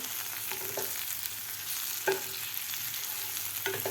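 Bitter gourd fry sizzles in a pan with a constant bright frying hiss, as a spatula stirs it in occasional scraping strokes; no voices.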